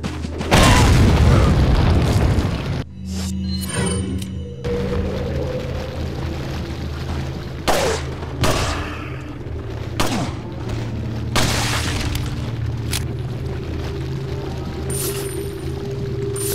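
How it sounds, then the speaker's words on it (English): A hand grenade explosion in the Resident Evil 4 video game, one loud deep boom at the start followed by a quieter stretch of game ambience with several sharp thuds and impacts scattered through. "let's use one of our hand grenades here."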